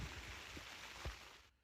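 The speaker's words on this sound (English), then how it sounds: "Rain started." Light rain begins falling at a night campsite in an abandoned quarry, a soft diffuse patter with a couple of low thumps before it cuts off abruptly.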